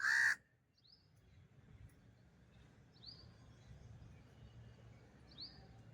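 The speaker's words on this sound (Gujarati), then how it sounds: "જો માથે કાગડો કડકા કાકા કા કરે." A single loud crow caw rings out overhead at an open-air flea market, then a hushed low background follows with faint chirps.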